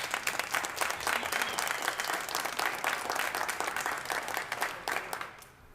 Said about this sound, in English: I want to start my remarks by giving him a round of applause for all his work and his efforts